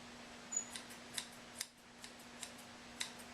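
Scissors snip hair on an Australian Shepherd's foot, a series of small, crisp, close cuts spaced irregularly over a steady low hum.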